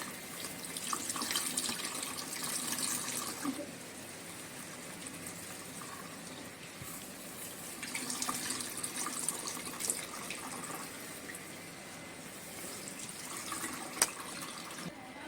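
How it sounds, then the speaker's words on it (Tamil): A homemade leaf pest repellent solution is poured and filtered through a sieve sack, a soft trickling, splashing flow of liquid that swells and eases in waves, fairly quiet and without talk, with one brief sharp knock. "இந்த கரைசலை ஜல்லடை சாக்கில் வடிகட்டி எடுத்துக்கணும்"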